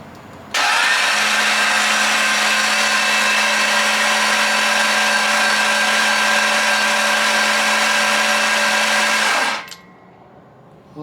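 A 408 cubic-inch LS stroker V8 is cranked over on its starter to build oil pressure without firing, giving a loud, steady whirring drone for about nine seconds before it cuts off.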